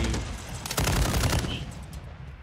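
The Jak Protean aftermarket gun firing in Modern Warfare III, a loud rapid burst of heavy, punchy shots that starts partway in and then trails off into a fading echo.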